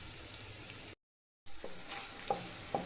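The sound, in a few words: crushed garlic, ginger and chillies frying in a pan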